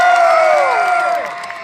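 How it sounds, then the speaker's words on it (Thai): Outdoor crowd at a Karen New Year event in Omkoi cheering and applauding, a loud burst of voices and clapping that fades quickly. "ขอเสียงปรบมือให้ถึงกรุงเทพอีกครั้งหนึ่ง"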